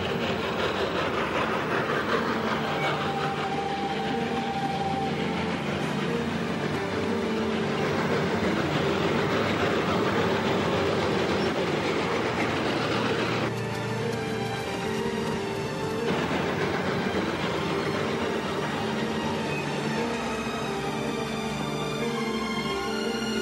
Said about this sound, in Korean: 그리고 승객을 태운 기차는 무사히 다리를 건너게 됩니다.